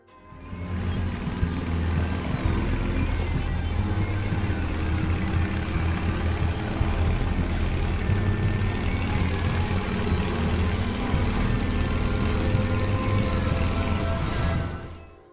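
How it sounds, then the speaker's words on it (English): Revving motorcycles in The Path horror game soundtrack: a steady, dense low engine rumble holds throughout, building slightly, with a faint higher drone above and no clear individual revs. "the sounds of creaking wolf growls and the revving of motorcycles build in the soundtrack"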